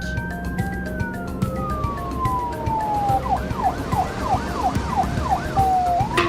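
A cartoon police car siren sweeps down in a long wail, then switches to a fast rising-and-falling yelp, over steady background music and engine-like rumble.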